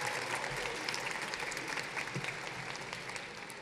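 A crowd claps at a high school graduation ceremony, a dense, steady patter of hands that fades slightly near the end, with no talk over it.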